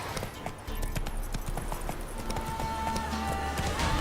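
Hoofbeats of a horse galloping in The Witcher 3, a steady, rapid clip-clop rhythm running throughout, fairly close, with game ambience underneath and no talk.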